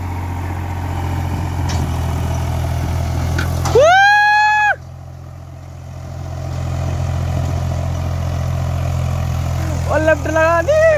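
An Eicher 485 tractor hitched to a 30-disc harrow idles with a steady, deep low rumble throughout, while brief wavering tonal calls or voices rise over it twice.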